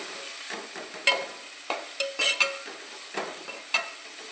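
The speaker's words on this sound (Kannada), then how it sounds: "ಕರಿಬೇವು ಎಲ್ಲ ಸ್ವಲ್ಪ ಹೊತ್ತು ಫ್ರೈ ಆಗಲಿ" Sliced onion and curry leaves fry in a pan with ghee for chicken ghee roast, a steady soft sizzle broken by clinking stirs of a utensil against the pan.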